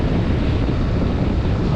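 Wind buffets the microphone in a steady, rough rush of low noise for a short moment.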